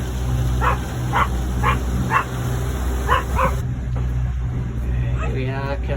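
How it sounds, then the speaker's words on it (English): Small dog barking aboard a boat, a run of sharp yaps in quick succession over a steady engine drone, then a whimpering whine near the end, with voices talking. "And Boo Boo's barking, of course."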